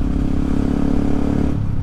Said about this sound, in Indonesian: Enak atau tidak suaranya knalpot ini?